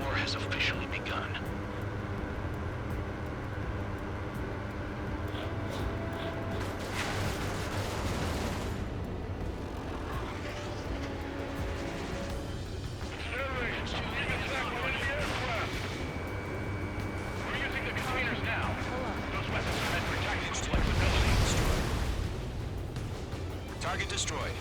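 Anti-aircraft guns firing and explosions in the combat flight game Ace Combat 7, with dense rumbling blasts, rapid bursts and swelling booms layered over a continuous roar, with voices talking over parts of it.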